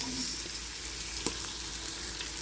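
Garlic, ginger and onion sauté in a pan before beef goes in, making a steady, fairly faint hiss with a couple of light utensil taps and no talking.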